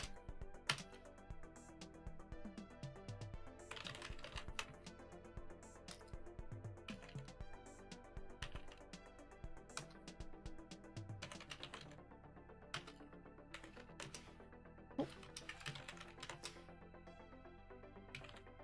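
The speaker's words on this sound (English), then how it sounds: "it is typing ASMR" Computer keyboard typing, close and quiet, with a continuous patter of keystrokes and brief pauses between bursts, set against a faint background of game music.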